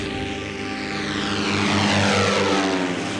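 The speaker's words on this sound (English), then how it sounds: "the hangar doors opened and the plane took off" A propeller aircraft's engine drones loud and steady as the plane leaves a hangar and takes off, its pitch sweeping and the roar swelling toward the end, with no voices.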